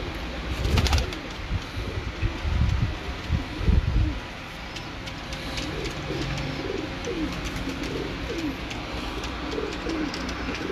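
Breeder pigeons coo softly in a loft, with low rolling coos repeating under a steady background hiss and a few louder bumps early on.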